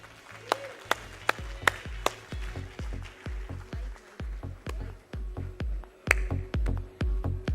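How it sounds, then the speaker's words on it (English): Distinct, crisp claps ring out close by in a steady, unhurried pulse, each with a soft thump, as an audience at a Rotary event welcomes Major Gaurav Arya. "A big round of applause for Major Gaurav Arya."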